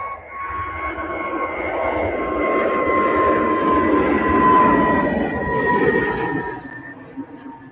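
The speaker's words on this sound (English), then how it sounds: "This time, EasyJet are heading off to Munich." An EasyJet passenger jet at Manchester Airport produces a loud, sustained engine roar with a steady whine, swelling and holding for several seconds before gradually easing off, with no talk.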